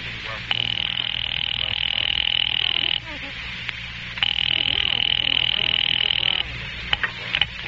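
Two long bursts of a telephone line ringing in an old radio drama, each a buzzing ring lasting a couple of seconds, separated by a pause, over a low background hum.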